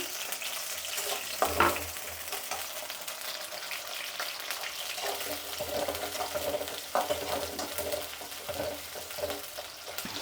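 Chopped onion and garlic fry in oil in a pan, giving a steady, close sizzle with occasional stirring scrapes and clatters over the whole stretch.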